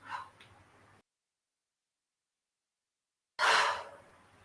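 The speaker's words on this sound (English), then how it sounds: "Breathing out through the mouth." Breathing out through the mouth during a qigong exercise: a short breathy exhale at the start, then silence, then a loud, close airy sigh-like outbreath that fades.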